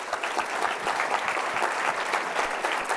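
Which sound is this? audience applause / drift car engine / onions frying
audience applause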